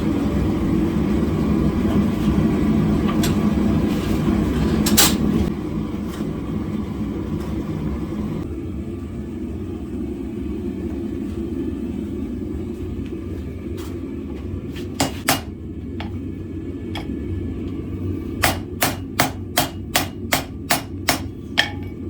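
A blacksmith strikes a forge weld on the first welding pass, a steady low rumble with scattered sharp metallic hits, then a quickening run of evenly spaced hammer blows near the end.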